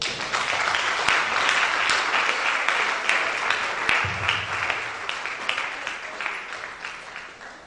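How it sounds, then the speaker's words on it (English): An audience claps after a World Thrombosis Day keynote address, a dense sustained round of applause that slowly thins toward the end. "Please, another round of applause for her."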